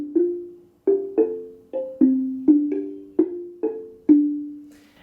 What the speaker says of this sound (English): This is a log drum or a tongue drum.